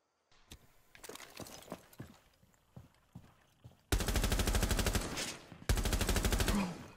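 Rapid video game gunfire rings out in a shootout, starting as scattered shots and then breaking into two long, loud bursts of sustained automatic fire, close and dominant.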